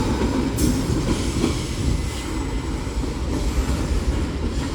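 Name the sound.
Union Pacific mixed freight train passing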